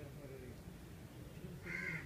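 A crow gives a single faint, distant caw near the end, heard over a low murmur of background noise.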